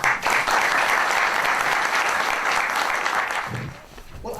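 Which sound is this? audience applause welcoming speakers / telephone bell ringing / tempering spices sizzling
audience applause welcoming speakers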